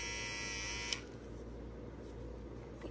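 A 4Mas Bullseye hair trimmer runs with a close, steady electric buzz that suddenly drops to a lower, rougher hum about a second in.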